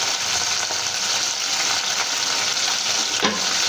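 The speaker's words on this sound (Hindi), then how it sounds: "तो इसी तरह भूनेंगे ताकि हमारी प्याज जलने ना लगे" Onion and chicken sauté in a pan over a low flame, giving a loud, continuous close-up sizzle with soft stirring, and no one speaks.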